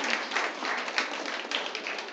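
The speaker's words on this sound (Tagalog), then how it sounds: "Pumalakpak po tayo dahil napakapalad po natin." Church congregation clapping together in a steady, fairly loud burst of applause, many hands patting at once with slight rhythmic swells and no voices over it.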